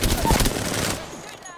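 Rapid automatic gunfire in the video game Apex Legends, a dense burst of shots up front that fades into a quieter tail, with a voice faintly present in the mix.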